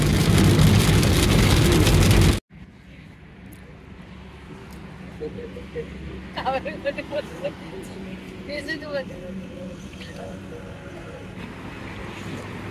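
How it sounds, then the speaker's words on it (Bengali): Rain keeps falling on a car, first as a loud roaring wash that cuts off abruptly, then as a quieter steady patter under brief voices and faint background sounds. "ভালোই বৃষ্টি হচ্ছে জোরে।"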